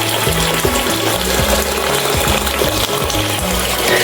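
Water gushes steadily from a pump filling a cement crayfish fish pond about 5 by 5 feet, a loud, continuous rushing and splashing with faint mechanical hum and no talk.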